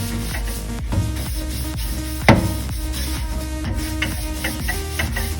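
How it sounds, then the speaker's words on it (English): A small brush works excess grease off a kitchen hood grill tray in repeated scrubbing strokes, a steady rhythmic scratching with knocks and one sharper clack. "with a little brush, slowly brush the excess grease that we cannot reach"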